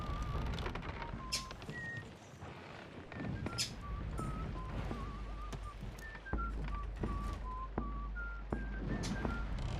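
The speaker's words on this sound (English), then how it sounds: "Birds yelling" Birds in the Sea of Thieves game world chirp and whistle in short repeated calls over a steady ambient background, with scattered soft taps throughout.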